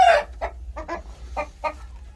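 A chicken clucks in a short series of close, clipped calls with brief pauses between them.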